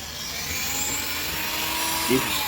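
Dremel rotary tool polishing a part from a 1920s Sessions mission style clock, a steady high whirring drone held for a couple of seconds, close and even, with a short bump near the end.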